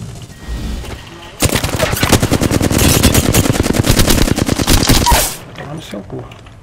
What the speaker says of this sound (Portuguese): Aproveitar que esses caras estão trocando tiro.